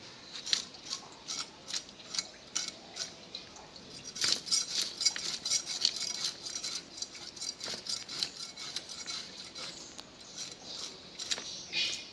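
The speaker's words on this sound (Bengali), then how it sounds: "সাইজ বড় তো 2 পিস করে কাটলাম।" Large hilsa fish cut into two pieces on a board, a run of sharp clicking knife strikes and scraping taps, close and fairly quiet, with a denser patch of cutting in the middle.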